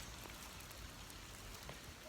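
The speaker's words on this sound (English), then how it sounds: "Uh-oh, comes the rain." Steady rainfall outdoors, a soft, even hiss of drops on surfaces with occasional faint patters, continuous and fairly quiet throughout.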